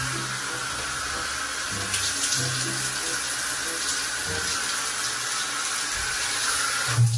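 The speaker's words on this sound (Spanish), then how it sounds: "Abra la canilla acá y sale por acá" A sink faucet (canilla) running steadily in a dressing room, a continuous even stream of water with faint background sounds.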